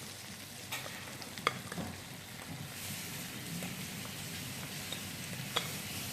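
Rice being added and sautéed with peas and other ingredients in a paella pan, a faint steady sizzle with soft scraping stirs and a few light clicks of a utensil against the pan.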